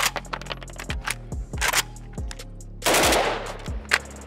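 A Pioneer Arms 556 Sporter AK rifle fires a string of sharp, loud shots at an uneven semi-automatic pace, with one longer harsh blast near the end, close up and not masked by talk.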